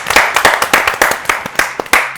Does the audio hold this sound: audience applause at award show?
yes